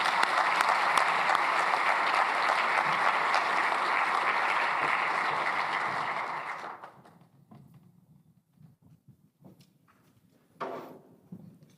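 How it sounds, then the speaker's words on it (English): Audience applause welcoming a speaker onto a stage, a loud sustained clapping crowd that fades out after about seven seconds, followed by quiet room noise and a brief shuffle. "would ask all of you to welcome him with a round of applause."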